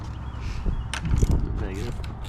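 A quarter-inch ratchet with a deep 10 mm socket works on a fastener of a Mk7 VW GTI, giving a few short bursts of clicking and metallic clatter over a low hum.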